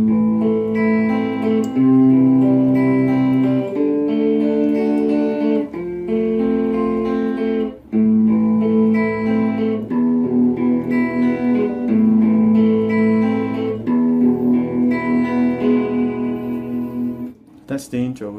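Arpeggiated guitar chords from the intro of a song, played steadily in time with notes picked up and down the strings, ringing clearly with light effects and no talking.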